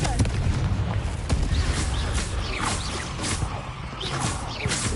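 Dense rumbling blasts and crackles of a Confringo spell exploding in a Harry Potter video game, loud and continuous with whooshing bursts layered over a heavy low roar.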